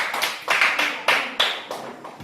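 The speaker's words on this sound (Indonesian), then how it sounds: "Oke, tepuk tangan untuk Mutia." Several people clap in short, separate bursts for a quiz answer in a classroom, about six sharp rhythmic claps close by, each fading quickly.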